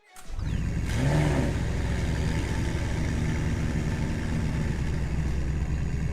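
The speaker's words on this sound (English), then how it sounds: "On startup, you can hear the turbo whistle trail off and lead into the idle" McLaren V8 starting up in the video game Greenville, a quick rising crank and whistle that settles into a steady, close, loud idle drone holding to the end.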